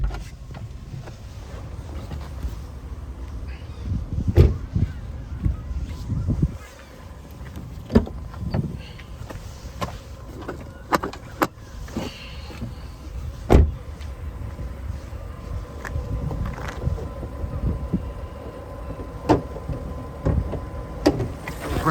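A Fiat Punto engine idles steadily after starting, a low continuous hum with occasional clicks and knocks from inside the car.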